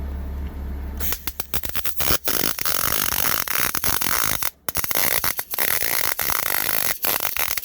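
Welding on a custom winch mount bumper for a V-8 Ford Ranger makes loud, continuous crackling and sputtering with frequent brief breaks, close to the microphone and with no talking.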